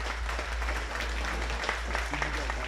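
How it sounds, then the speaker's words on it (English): Dense audience applause at a high school sports honors ceremony fills the space, steady and continuous, with a low hum underneath. "Give yourselves a round of applause."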